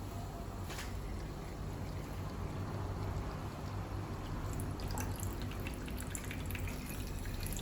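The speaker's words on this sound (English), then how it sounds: "Add pure water to the 机器里 machine." Pure water pours steadily into the tank of an e-star S3 machine, a continuous faint splashing trickle with a few sharper drips toward the end, heard alone.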